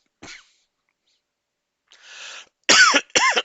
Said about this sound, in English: this cough won't let go